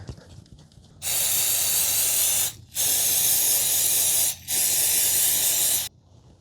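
Three long hissing bursts of aerosol cleaner sprayed onto a car's mass airflow sensor, each lasting over a second with brief gaps between, close and loud.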